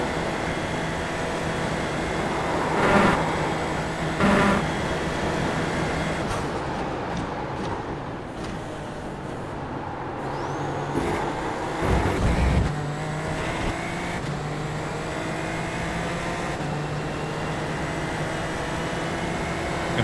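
A race car engine in iRacing drones steadily at close range and rises and falls with throttle and gear changes, with brief louder spikes as it pushes around the track.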